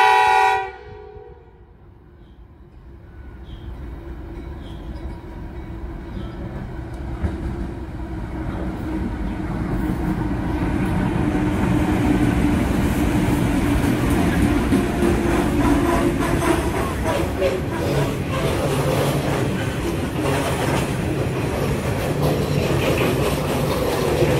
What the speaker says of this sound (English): We have 2928 approaching. NR84 is the leading loco.